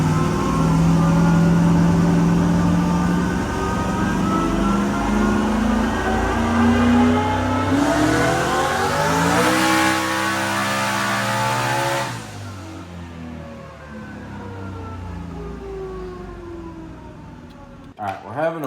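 A turbocharged 2014 COPO Camaro roars through a sustained dyno pull, its engine note sweeping upward to a peak and then dropping away into a lower, fading rumble, loud and close throughout.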